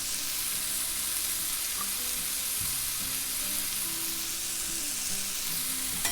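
Smash burger patties topped with shaved onion sizzling on a flat griddle, a loud, steady, dense hiss that runs unbroken throughout.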